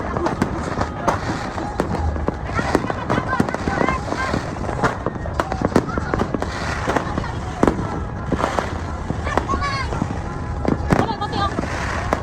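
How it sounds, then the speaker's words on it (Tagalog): Dense crackling and popping of New Year fireworks going off continuously nearby, with voices and crowd noise mixed in. "magaganda yung fireworks na makikita mo dito sa place namin"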